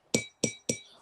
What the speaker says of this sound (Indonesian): coba tolong diketukkan gelasnya